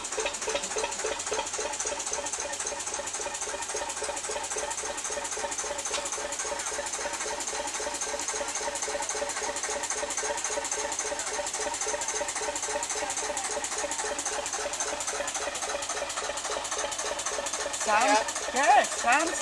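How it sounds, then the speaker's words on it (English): A 1936 Russell Newbury engine runs steadily nearby with a fast, even mechanical chugging and clatter, holding a constant rhythm throughout, with a brief voice near the end. "It's a 1936 Russell Newbury engine."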